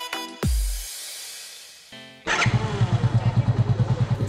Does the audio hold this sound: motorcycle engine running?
yes